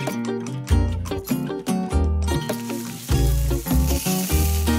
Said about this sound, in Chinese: 这么好的和牛一定不能煎得太老